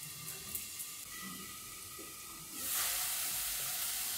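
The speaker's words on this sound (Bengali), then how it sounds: "একটু নেড়ে দিলাম। নেড়ে দিয়ে সামান্য একটু জলের ছিটে দিলাম।" Capsicum and carrot fry in a pan over a low gas flame for chirer polao with jaggery, a steady soft sizzle that swells louder midway as the vegetables are stirred and sprinkled with water.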